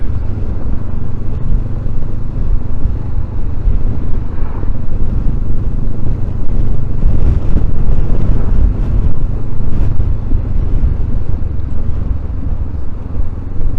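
Honda CB500X (2023) motorcycle riding along with its exhaust giving a steady low grumbling drone, a continuous moderately loud engine note mixed with wind rush and no speech.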